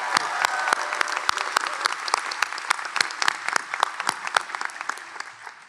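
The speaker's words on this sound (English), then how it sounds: "let's give Douglas a big round of applause for graduating preschool" Sustained audience applause at a College of Pharmacy commencement ceremony honoring a preschool graduate, dense steady clapping with sharper individual claps poking through, no talk.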